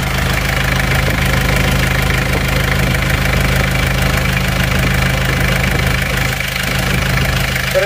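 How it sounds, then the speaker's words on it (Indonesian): A car engine idles steadily up close, a constant low rumble with a faint rhythmic knock running through it, with no talking. "Suara mesinnya semakin stabil."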